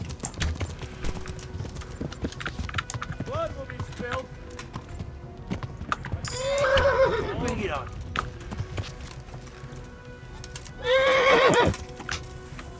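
A horse in the video game Kingdom Come: Deliverance, with steady clip-clopping hooves throughout and two loud, close whinnies, while someone talks over it now and then.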